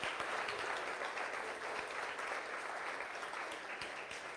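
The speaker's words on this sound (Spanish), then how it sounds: "Era una ofrenda de palmas a Dios." A church congregation claps as an offering to God, a broad, even wash of many hands clapping together, fairly faint and distant, sustained without any voices.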